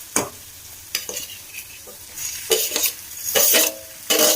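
Onions frying for dried fish thokku in a pan, a soft sizzle under repeated scraping strokes of a spoon stirring, several distinct bursts spaced irregularly, close and clear.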